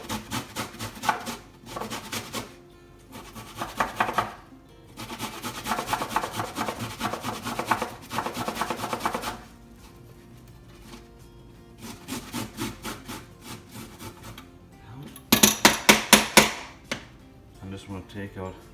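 Fresh ginger rasped against a grater in a home kitchen while a chicken ramen is being made, coming in bursts of quick scraping strokes with short pauses between them, close and fairly quiet.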